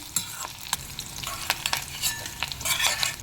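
Curry leaves and green chillies sizzle in hot oil for a raw tomato pickle, a loud, close crackle with frequent sharp pops and spits over a continuous frying hiss.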